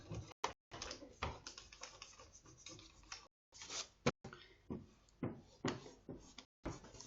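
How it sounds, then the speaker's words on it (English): Pencil lines being erased on a paper mechanical drawing, a series of quick, faint scratchy rubbing bursts in an irregular rhythm, close up with short pauses between strokes. "I'm just quickly going to erase most of these lines"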